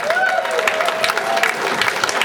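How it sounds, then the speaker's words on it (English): A hypnosis show audience at Chedder FC claps in a steady, dense round of applause that fills the room at even loudness, with a faint whistle-like tone and a few murmured voices underneath. "the audience is going to give you a big round of applause"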